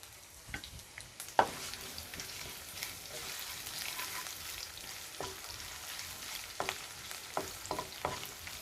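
Chopped onion and green chillies frying in a pan, a soft steady sizzle broken by several sharp clicks and taps of stirring, fairly quiet and without talk.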